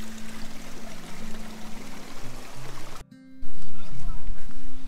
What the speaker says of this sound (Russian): Дорога на вершину идет вот вдоль такого ручья живописного.